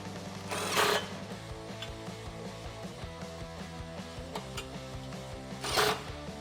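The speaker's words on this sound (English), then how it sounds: "Grab your 10mm socket and 10mm wrench and tighten down the bolts holding" Ratcheting 10mm socket wrench tightening bolts that hold Jeep Wrangler JK side armor steps to the pinch weld, a steady run of fine ratchet clicks with two sharper metallic bursts, close and clear.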